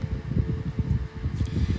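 An electric fan running off a portable EcoFlow power station gives a steady low whirring drone, close and continuous, with no voices over it.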